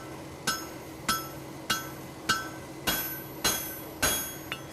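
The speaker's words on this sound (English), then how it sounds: "hit parallel to the anvil face at the top of the caulk" Steady series of seven sharp, ringing hammer blows striking a horseshoe on an anvil at the caulk during farrier work, evenly spaced about every half second, close and clear with metallic ring and no talk.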